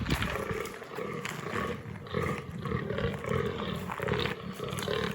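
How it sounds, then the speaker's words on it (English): Deer stags in rut roar and growl all around, giving a dense, continuous wash of rough bellowing calls that overlap at close to medium distance. "Look at that stag going through there."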